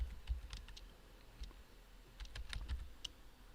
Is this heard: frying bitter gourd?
no